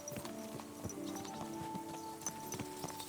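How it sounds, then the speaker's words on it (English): Horse hooves clip-clopping at a steady walking rhythm in the video game Kingdom Come Deliverance 2, moderately close and quiet, over a faint musical or ambient drone. "This must be the ugliest horse I've seen in my life."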